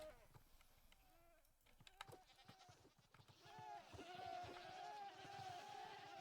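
Several goats in a video game bleat in overlapping calls against a faint background, the bleats growing busier and louder toward the end.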